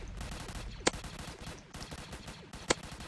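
A Beam Launcher gun in the Roblox game Zombie Attack fires two loud, sharp blasts about two seconds apart over a busy, rumbling game background.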